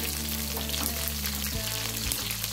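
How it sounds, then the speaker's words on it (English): Onion dropped onto dry meat in a hot pan, sizzling loudly and continuously at close range, with a brief shift in the frying noise partway through and no talk. "our meat is dry, so I'm going to add in the onion first"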